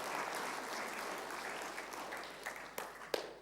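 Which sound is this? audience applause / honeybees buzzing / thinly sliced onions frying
audience applause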